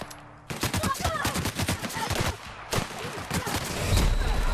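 A gun fired from the hip in The Outer Worlds, a loud rapid burst of automatic shots in quick succession, a short break, then a second shorter volley ending in a low rumble.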